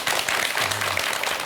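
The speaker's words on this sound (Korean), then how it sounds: "큰 박수로 청해 듣도록 하겠습니다" An audience applauding at a Korean lecture on brain science, a dense, even burst of many hands clapping that holds steady and fills the room briefly.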